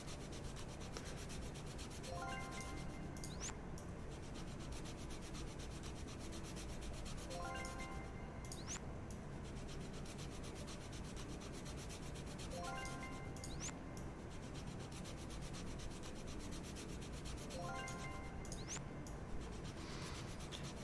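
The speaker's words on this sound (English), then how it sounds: "Well, looks like we're going to be sanding for a while here." Repeated sanding strokes on a toy under repair in a game, rhythmic rubbing passes roughly every five seconds with short squeaky bursts between them, steady and close.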